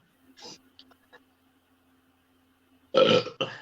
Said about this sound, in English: get those burps out